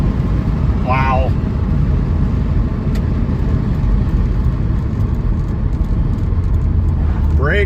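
An MK 3 Toyota Supra drives along, its engine and road noise forming a steady, loud rumble from inside the car, with brief voice sounds near the start and the end.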